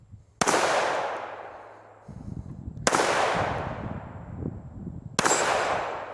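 Three sharp, loud gunshots from a 5.7 caliber pistol at an outdoor range, each cracking close by and ringing out in a long decaying echo, spaced a couple of seconds apart.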